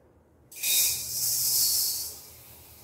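Toor dal from the ration shop dry-roasting in a pan breaks into a sudden, steady hiss that rises and holds, then slowly eases off, close and alone with no talking.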